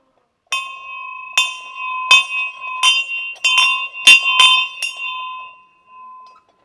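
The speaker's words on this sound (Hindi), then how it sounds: "घंटी है यहाँ पे तो घंटी बजाते हैं।" A metal Hindu temple bell is struck about nine times at an irregular pace, each clang ringing clearly and decaying, with the final strike fading out.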